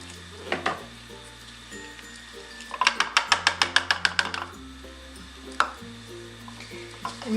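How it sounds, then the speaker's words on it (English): Hair color mixed in a bowl, a quick series of rhythmic scraping, clicking strokes of a brush against the bowl, close and moderately loud over soft background music. "And mix it all in"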